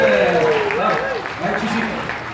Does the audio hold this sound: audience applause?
yes